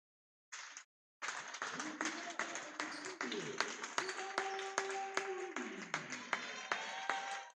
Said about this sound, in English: You get a nice round of applause